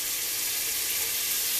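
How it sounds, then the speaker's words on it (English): Steady, dense sizzling of pork frying in a hot pan, a continuous crackling hiss at an even loudness throughout. "This little piggy is going in my frying pan"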